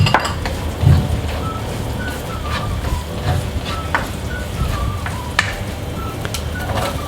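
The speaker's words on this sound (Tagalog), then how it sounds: "Ngayon, igigisa natin yung ating bawang." Garlic sautés in a little oil with a steady low sizzle under background music, and occasional light clinks of utensils against the pan.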